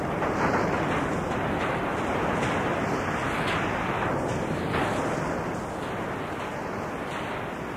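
Sea waves surging against a rocky shore, a steady loud wash of surf with rolling swells and a roaring, wind-like hiss throughout, heard close and alone.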